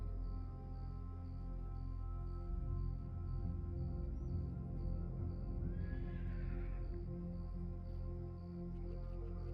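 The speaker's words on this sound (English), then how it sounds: "Wonder whose horse that is." A horse neighs in Red Dead Redemption 2 on the WildRP roleplay server, one whinny rising mid-clip over steady game ambience and music, with no talk.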